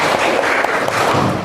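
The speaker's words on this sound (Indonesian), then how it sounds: "Beri tepuk tangan untuk kita semua" A classroom group claps together in a steady, dense burst of applause that stays even and fairly loud throughout, with no voices standing out.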